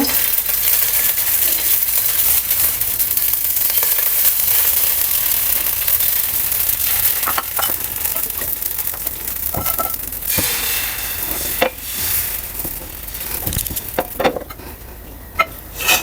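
Patihapta pitha fries in a pan with a steady, loud hiss of sizzling filling the whole stretch, and a few light clinks of utensils against the pan near the end. No one speaks.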